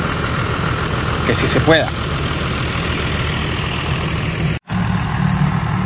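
A John Deere 3350 tractor engine idles steadily on soft, wet ground beside a stuck Isuzu truck loaded with forage, a constant low rumble with a brief voice in Spanish and a short dropout near the end.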